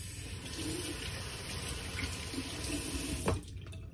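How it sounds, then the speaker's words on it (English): Tap water runs steadily into a sink during handwashing, a close, continuous splashing rush that ends abruptly with a brief knock near the end. "I'll wash my hands real quick."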